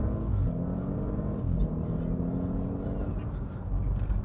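A 700bhp Audi S8 executive saloon pulls away from about 15 mph, its engine a steady, full rumble that rises gently as the car gathers speed, heard from inside the cabin.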